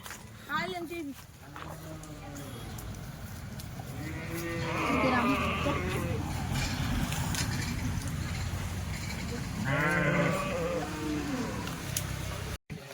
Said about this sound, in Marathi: तुम्हाला अगोदर मी मेंढ्या दाखवतोय काठीवाडच्या मेंढ्या